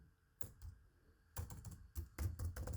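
Short bursts of typing on a computer keyboard, a lone click followed by a silent pause, then clusters of quick close keystrokes.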